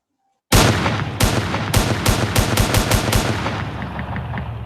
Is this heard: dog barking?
no